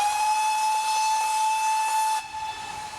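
A steam locomotive on the Dartmouth Steam Railway sounds a long, loud, steady whistle with a hissing edge, heard alone for about two seconds before it cuts off and leaves quieter background noise.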